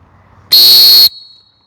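A coach's whistle is blown once, producing a loud, shrill blast that lasts about half a second and then cuts off sharply.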